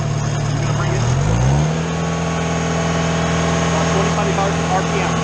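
Engine of a Schwing BPA500 concrete pump truck revving up, a steady droning hum that rises in pitch then holds at a higher speed, loud and close throughout.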